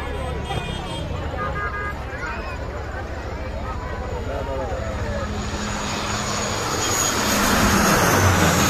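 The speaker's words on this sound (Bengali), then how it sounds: "আমরা হযরত শাহজালাল আন্তর্জাতিক বিমানবন্দরের রানওয়ের পাশ থেকেই এই বিমান ওঠানামাগুলো এতক্ষণ দেখলাম" An airplane near the runway of Hazrat Shahjalal International Airport in Dhaka, heard as a loud, continuous engine roar and whine that swells toward the end as the aircraft draws close, with voices faintly underneath.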